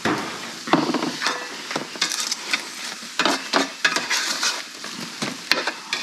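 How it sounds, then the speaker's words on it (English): A spoon quickly stirring ratatouille stuffing in a hot pan, giving scraping, clattering strokes over a steady sizzle, close and fairly loud. "give this a quick stir"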